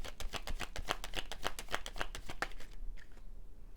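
Tarot cards being shuffled at close range, a rapid, steady flutter of riffled card edges that stops abruptly near the end, leaving a quiet room.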